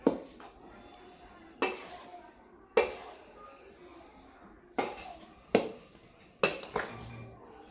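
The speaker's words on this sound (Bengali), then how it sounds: "মিশিয়ে এটা খুন্তি দিয়ে ভালো করে এরকমভাবে নাড়িয়ে নেবে" A spatula stirs and scrapes a mixture in a pan, giving sharp metallic knocks and scrapes at irregular intervals, roughly six distinct strokes, each followed by a short rustling tail, with quiet stretches between.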